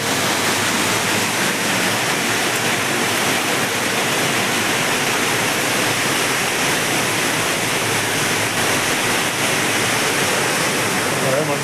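Monsoon rainwater rushes beneath a culvert bridge on NH 66 at Randathani, Malappuram: a loud, unbroken roar of churning water, close and steady throughout, with no pauses.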